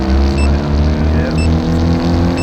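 A Toyota Corolla turbo engine holds a steady, loud rev with a low droning rumble, nudged up slightly with a little more throttle, continuous and close throughout.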